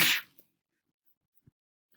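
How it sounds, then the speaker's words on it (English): A single loud sneeze bursts out close by at the very start, followed by a couple of faint clicks and near silence. "I have to sneeze"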